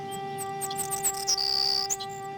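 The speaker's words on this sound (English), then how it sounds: "But we got loud birds again, which are also really annoying." Loud, high bird chirps and trills from the Amnesia horror video game repeat in quick bursts, including one sustained shrill whistle, over a steady background hum.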